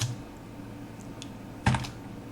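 Light, sparse keystrokes on a computer keyboard while HTML form code is typed, a few soft scattered clicks and one firmer cluster of taps against a quiet room.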